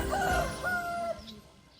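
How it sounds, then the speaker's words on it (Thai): A Burmese cross-bred fighting rooster crows close by on a farm in Nakhon Nayok, Thailand, giving one strained, wavering call that fades into quiet at the end. "มาดูไก่ชนพันธุ์พม่าผสม"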